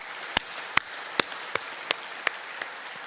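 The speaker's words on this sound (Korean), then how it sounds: "우리 축복과 격려의 박수를 한번 해주시기 바랍니다" Church congregation applause during a Korean worship service, a soft, even patter of many hands under a series of sharper, regularly spaced individual claps that stand out near the listener.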